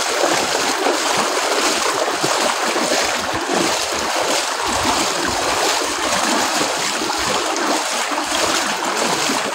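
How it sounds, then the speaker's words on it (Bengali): A boat moving through floodwater over a road in Laksam, Comilla, a loud continuous wash of churning water and rushing noise close by, with no talk. "রাস্তার উপরে নৌকা চলে"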